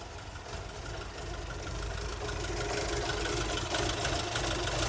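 Ford Escort XR3i cabriolet barn find engine idling roughly, a steady low rumble near the point of cutting out, heard close and alone with no talking.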